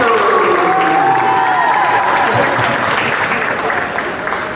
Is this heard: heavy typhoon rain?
no